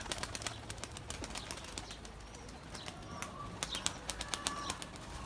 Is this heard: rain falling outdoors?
no